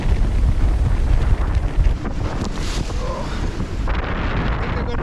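Strong 25-knot wind over a sailboat at sea, a loud continuous roar with heavy wind buffeting on the microphone and rushing water beneath, easing slightly partway through, no voices.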